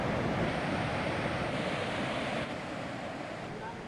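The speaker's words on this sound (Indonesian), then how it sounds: "Oke, alhamdulillah kita udah sampai di bawah di aliran sungai." Steady broadband rush of river water flowing near Leuwi Mangrod, loud and continuous with some wind buffeting on the microphone, easing slightly in level toward the end.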